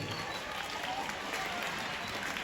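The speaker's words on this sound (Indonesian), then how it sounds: "Kita beri aplaus kepada paslon nomor urut 3" Audience applause at a school student council (OSIS) candidate debate at SMP Negeri 205, welcoming candidate pair number 3: steady, dense clapping from a crowd that fills the room at an even level throughout.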